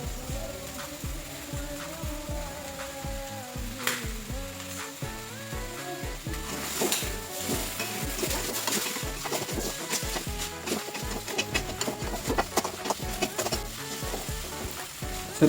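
Beef tongseng with spices stir-frying in a pan, a steady close sizzle with repeated scraping and clacking stirring strokes that grow busier toward the end.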